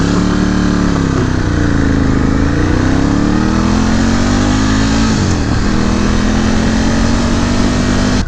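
A 2018 Ducati Scrambler 1100 Special's V-twin engine drones steadily while riding, with rising and falling engine tones as the rider accelerates and shifts, loud and continuous throughout with wind noise.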